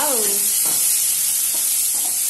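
Finely chopped onions sauté in a pan for an ennai kathirikkai kulambu, with a continuous sizzle and a few soft scrapes of stirring. A brief voice is heard at the start.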